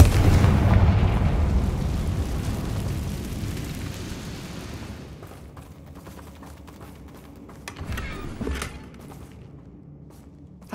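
A Confringo fire spell explodes in Hogwarts Legacy with a loud, deep boom that rolls out and fades over several seconds. A smaller crackling burst follows a few seconds later.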